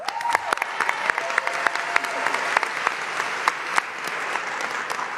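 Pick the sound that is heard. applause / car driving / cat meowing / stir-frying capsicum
applause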